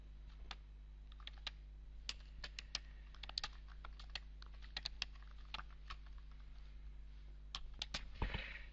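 Irregular keystrokes clatter on a computer keyboard while text is typed into Word, quiet and close, with uneven bursts and short pauses ending in a slightly louder clack.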